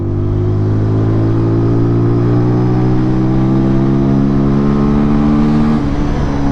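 A TVS Apache single-cylinder motorcycle engine revs steadily and loudly up close, its pitch climbing gradually as the revs build, with no talk over it.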